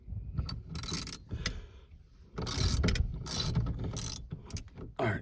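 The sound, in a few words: ratchet turning on S10 steering wheel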